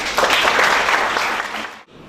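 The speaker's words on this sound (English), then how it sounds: "Can we please have a huge round of applause for her?" An orientation hall audience of university freshers applauds a trustee after her speech: dense, loud crowd clapping that holds steady, then cuts off abruptly near the end.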